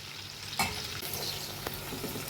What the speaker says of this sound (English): my onions and chilies have been sort of frying, not really on high